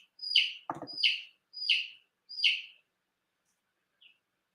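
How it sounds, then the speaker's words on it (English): An indoor bird gives four bright, evenly spaced chirps close by, then one faint short peep after a pause, with a brief low thump between the first calls and otherwise quiet. "There is a very needy bird in there. Can you all hear him?"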